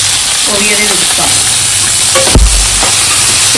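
Chopped green chillies fry in a hot pan with a loud, continuous close sizzle, broken by a stirring scrape and a brief burst of hissing.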